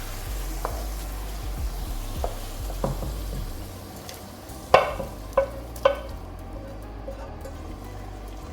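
Sofrito being stirred into a pot of black beans cooking over low heat: soft continuous sizzling and stirring with a few sharp spoon clicks and taps against the pot.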